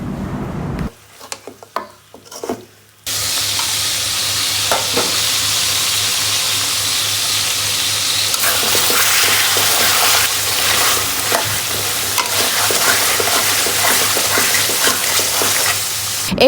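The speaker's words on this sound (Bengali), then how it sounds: "স্বাদ মতো লবণ দিয়ে খুব ভালোভাবে কষিয়ে নেব।" Chicken curry meat fries loudly in a pan with salt and spices, a dense continuous sizzle that surges in after a few quieter seconds of clinks and stirring.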